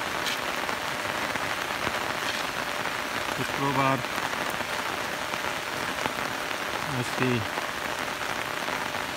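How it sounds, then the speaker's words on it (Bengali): Continuous rain falls in Dinajpur as a dense, even hiss of drops striking surfaces nearby. A voice speaks briefly twice over the steady downpour. "দুপুর 12টা থেকে বৃষ্টি শুরু হয়েছে দিনাজপুরে। কন্টিনিউ বৃষ্টি হচ্ছে।"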